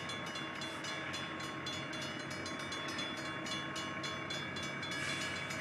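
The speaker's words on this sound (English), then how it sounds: "a train coming. It's coming from that way." An approaching train heard as a steady, even rumble and rush of rolling wheels with a faint rhythmic pulse, constant in loudness throughout.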